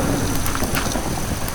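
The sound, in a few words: rain in Minecraft, a video game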